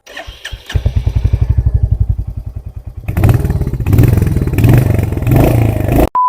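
A Royal Enfield Hunter 350 motorcycle cranks with a rhythmic chugging starter for a few seconds, then fires into a loud, close, steady thumping single-cylinder idle.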